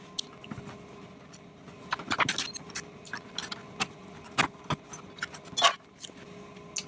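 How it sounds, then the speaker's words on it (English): Small screws clink and tick as they are fitted back into a Nintendo Entertainment System console case, a series of faint, close, irregular metallic taps with no talking. "now I'll start replacing screws"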